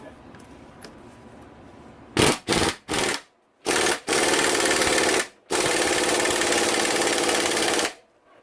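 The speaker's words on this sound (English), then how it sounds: "I'm going to start on setting number 1 here with my impact." Impact wrench on its lowest setting driving a nut during a Yamaha YZ450F engine rebuild, loud and close: three short bursts, then two long sustained rattling runs separated by a brief pause.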